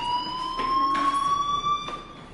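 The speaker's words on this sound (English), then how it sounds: "do you hear that fire alarm?" Fire alarm ringing in the video game Life is Strange, a steady electronic tone with a few bright harmonics that keeps on without a break while short noisy bursts come and go around it, and no voices.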